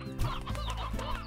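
Chickens clucking in the video game Slime Rancher, a few close, fairly loud clucks and squawks from a small flock over a steady low hum of game ambience.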